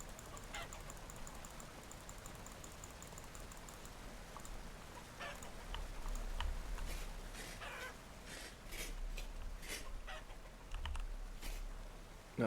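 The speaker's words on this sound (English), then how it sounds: "Come on, hens, be broody." Chickens in the survival game Vintage Story cluck and honk in a busy flock, with repeated short calls scattered over a steady ambient game background at moderate loudness.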